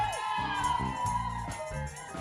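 A small crowd at a Valentine's dinner show screams and cheers in a steady, lively wash of voices that stays fairly close and continuous throughout.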